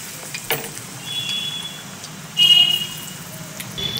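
Pakoras frying in hot oil in a kadai, a steady faint sizzle with a brief louder burst of crackling partway through as pieces go back into the oil.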